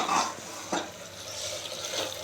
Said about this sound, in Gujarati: બા દેશી વાલોર પાપડીનું શાક છે અને બા વઘારી રહ્યા છે જોઈ શકો છો